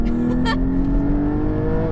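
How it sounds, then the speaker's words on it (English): A Porsche Cayman GT4 sports car engine revs hard and climbs steadily in pitch as it accelerates out of a corner, loud and close, droning throughout. "Foot down coming out of a corner, back end goes"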